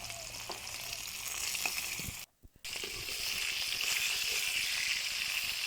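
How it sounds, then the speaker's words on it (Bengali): Ayr fish frying in a pan gives a steady, loud, broadband sizzle with soft scraping and stirring, broken briefly by a near-silent gap before the hissing resumes at full strength. "আমি প্যানের মধ্যে সবগুলো মাছ দিয়ে দিচ্ছি ভাজার জন্য।"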